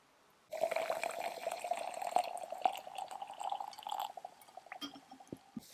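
Warm water poured into a jar holding sugar and tree branches, a steady close splashing and trickling pour lasting several seconds before easing into a few faint drips.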